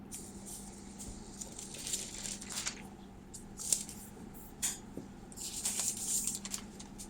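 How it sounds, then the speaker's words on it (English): A 2020 MacBook Air 13-inch being unwrapped from its packaging: soft continuous crinkling and rustling of wrap, with a few sharper crackles and peeling sounds, close and quiet, no talking. "And let's unwrap it."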